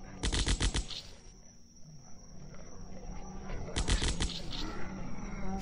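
Two loud, rapid bursts of assault rifle fire in a zombie shooter game, each a quick string of close shots, separated by a couple of seconds of game ambience.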